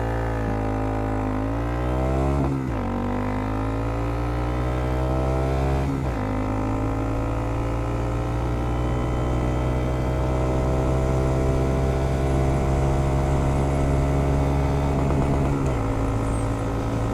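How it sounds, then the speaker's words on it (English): A Honda Monkey 125 motorcycle carrying an adult rider accelerates hard from a standstill to 50 mph, its small single-cylinder engine climbing steeply through each gear, with brief dips at the shifts before the pitch rises again. "you have to rev it throughout the whole rev range, so you're just almost hitting the rev limiter"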